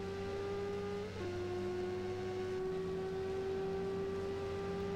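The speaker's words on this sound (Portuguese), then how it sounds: "Esse barulho ao fundo é da moto lá de trás, cara." A motorcycle engine drones steadily behind the player in the RIDE racing game during a Ducati 1199 Panigale drag race, a constant humming whine with a slight pitch dip early on.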